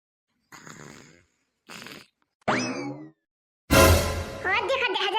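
A sleeping cartoon character snores in an Awadhi comedy cartoon. Two short soft breaths are followed by a louder, wobbly snort and then a long, noisy, rasping snore, all close with no talking.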